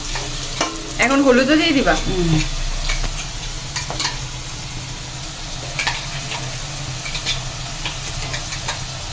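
Potato pieces sizzle in hot oil in a pan and are stirred with scraping spoon strokes, steady and close, while someone speaks briefly near the start.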